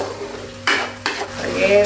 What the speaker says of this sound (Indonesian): Ini tinggal diaduk-aduk aja kayak gini.